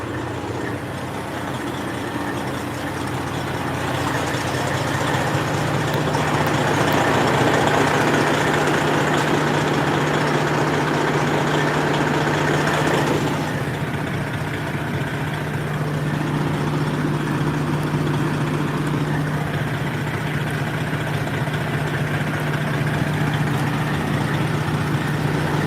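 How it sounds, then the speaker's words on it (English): An old Detroit diesel engine idling nearby with a steady low rumble and hum, growing a bit louder partway through and then settling at an even level. "Sound is a Detroit. It's an old Detroit engine."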